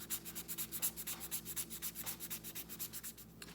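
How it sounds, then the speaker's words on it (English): Acrylic gel nails are filed down with quick, rhythmic back-and-forth sanding strokes, close and fairly faint, with no talking. "now what you want to do is just sand everything down"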